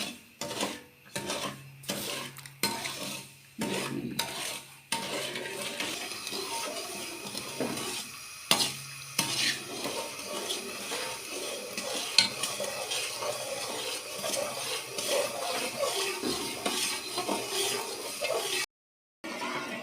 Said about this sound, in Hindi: और मुसलसल हिलाते रहेंगे इसी तरह